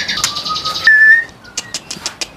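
A young oriental magpie robin calls up close, with a run of bright whistled notes and a long held whistle, followed by a series of short, sharp chirps spaced apart.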